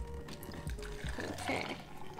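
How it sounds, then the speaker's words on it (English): Short burst of liquid being poured, gurgling and splashing into a container at close range, fairly quiet. "I am just gonna go ahead and pour this in."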